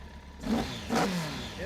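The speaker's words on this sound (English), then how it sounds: "Now that wonderful noise from that airbox is down to these, the carburetors." A Honda 1200 Super Blackbird motorcycle revs with a throaty carburetor and airbox intake roar, swelling twice in quick succession then holding a steady, rumbling note nearby.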